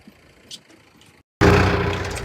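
A tractor on a farm, heard first as faint background noise, then after a short gap as a loud, close engine roar that holds steady to the end.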